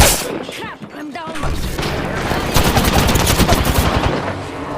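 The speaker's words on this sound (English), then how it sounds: "Listen up, I'm getting shot at." Rapid bursts of automatic gunfire and shots ring out in the Apex Legends video game, loud and dense, with overlapping reports throughout.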